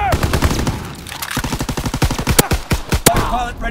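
Rapid, loud bursts of close machine-gun fire in the World War II shooter Call of Duty WW2 come in fast rhythmic volleys with sharp individual shots and brief pauses between strings.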